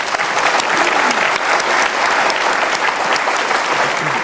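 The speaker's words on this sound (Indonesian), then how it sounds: "Oke, boleh tepuk tangan." Studio audience applause on the Indonesian talk show Mata Najwa, a loud, dense, continuous burst of clapping from a large crowd, steady throughout with no pause.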